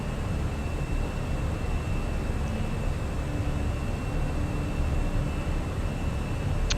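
Airliner departing at night in a flight simulator, a steady broadband roar of engine and wind noise with a faint high whine, constant and unbroken.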